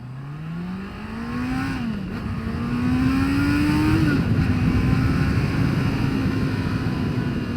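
A 2022 Honda CBR650R motorcycle accelerates hard from a traffic light, its engine note climbing through two quick gear changes and growing louder before holding at a high, steady roar close by.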